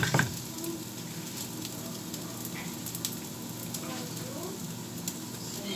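Food with coriander sizzles in a frying pan as it is swished and stirred around, a soft steady crackle with light scraping strokes, fairly close and moderately quiet.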